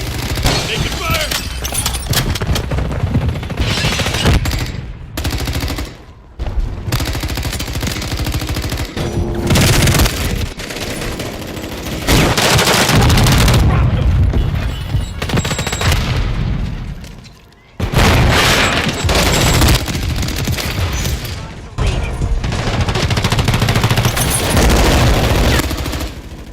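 Sustained bursts of automatic gunfire and booming explosions in a Modern Warfare 3 firefight, loud and dense with brief lulls around the middle, and occasional voices mixed in.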